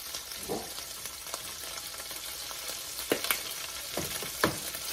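Andouille sausage frying in a pan gives a soft, steady sizzle, punctuated by several brief clinks and scrapes of a utensil.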